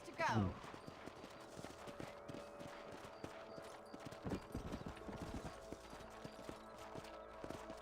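Horse hooves clip-clopping in the video game Red Dead Redemption, a quick burst of hoofbeats at the start followed by steady faint clopping under game ambience and music.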